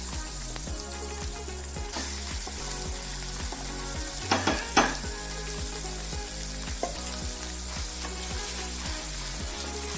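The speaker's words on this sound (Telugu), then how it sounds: "ఇప్పుడు మనం ఇందులోకి నూరి ఉంచుకున్న పుదీనా వేసుకోవాలి." Ground mint paste and curry leaves sizzle in hot tempering oil, a steady loud crackling hiss with soft rhythmic stirring scrapes and a couple of sharper spits midway.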